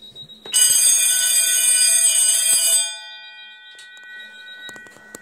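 A fire alarm sounds loudly during a magnet test of a smoke detector, a piercing steady tone blaring for about two seconds and then cutting off, with faint clicks and beeps trailing afterward.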